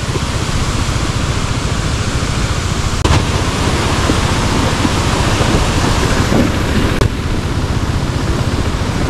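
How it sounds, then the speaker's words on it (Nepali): A mountain waterfall along the road to Muktinath in Nepal roars loudly and steadily up close, with a couple of brief bumps breaking the constant rush. "यो झर्ना चाहिँ बवाल छ यार"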